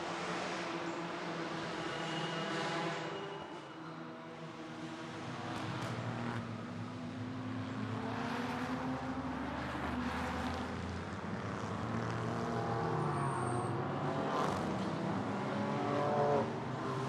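Race cars on track at Michelin Raceway Road Atlanta during the Fox Factory 120, engines droning and rising as several cars pass at a distance, layered and sustained with no talk.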